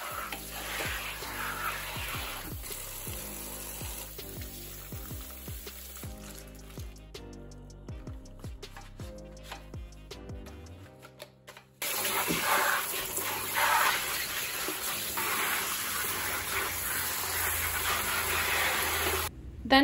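Water pours and splashes steadily as dusty vinyl blinds get rinsed, a continuous close rush that grows louder and fuller partway through, with no talking.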